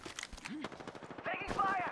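Gunfire in the battle royale video game Apex Legends: a quick series of sharp, fairly faint shots in a rapid rhythm, mixed with a voice talking and game sound effects, with a brighter burst of noise toward the end.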